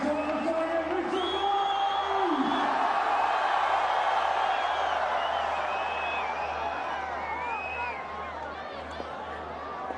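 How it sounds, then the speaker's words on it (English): A large stadium crowd in Rawalpindi roaring and cheering as Babar Azam takes strike in a Pakistan vs Australia one-day international, with whistles and horn-like tones over a dense, sustained wall of noise that eases slightly toward the end. "A huge cheer goes up here in Rawalpindi because it is Babar Azam who's taken strike."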